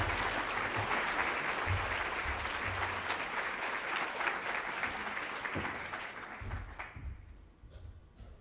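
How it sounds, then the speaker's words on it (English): An audience at the Jesuit Social Services general meeting applauds as Isaiah Lahai comes on stage, sustained clapping with low thumps of movement, tapering off toward the end. "Please give Isaiah a round of applause"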